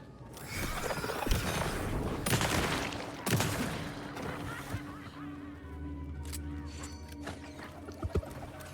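Shotgun blasts ring out during Alan Wake 2 gameplay, with several sharp broadband bangs spaced irregularly through a dense, mechanical game soundscape and a low steady hum, without speech.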